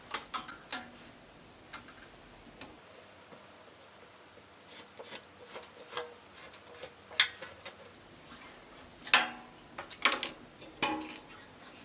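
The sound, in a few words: cutting out fabric pattern for a flare dress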